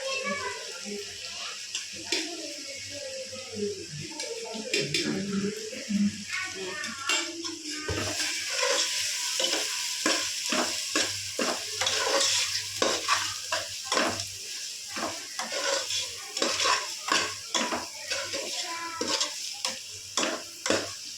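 Chicken biryani masala is stirred in a pot, a run of rhythmic scraping and clattering strokes over a low sizzle, with a voice talking early on.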